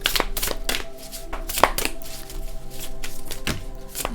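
Tarot cards being shuffled by hand, a run of crisp riffling bursts and soft slaps that repeat at an uneven pace, close and fairly quiet, with no talking.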